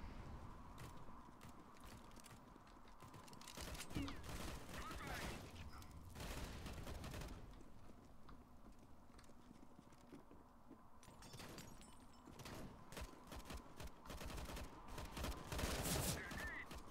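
PP-Bizon submachine gun fire in CS:GO on the Inferno map, with dense bursts of rapid shots and ambient game noise, with a person talking over them.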